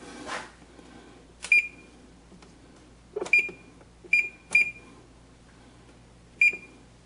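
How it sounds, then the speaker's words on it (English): A kitchen timer being set for one hour gives five short, crisp electronic beeps at uneven intervals, with faint clicks and handling noise between them and no talking. "Set the timer for 1 hour."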